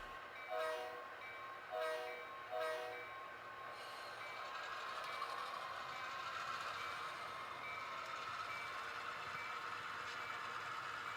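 HO scale model BN unit grain train in 1973 setting running along the layout, a steady mechanical rumble and whine with three short horn-like toots near the start, close and fairly loud throughout.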